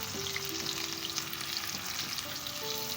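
Two medium onions, sliced, fry in a karahi with a steady close sizzle and a faint hint of stirring, even and unbroken, with no voices.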